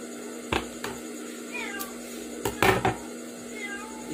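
A house cat meows several times, short rising calls spread across a few seconds, mixed with a couple of sharp knocks or clatters in a quiet room.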